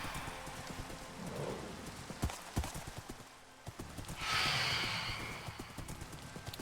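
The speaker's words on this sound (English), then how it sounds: "I have a horse that outruns the phantoms now." A Minecraft horse's hooves clip-clop in a steady, brisk rhythm of close clicks, with a rain-like hiss swelling partway through.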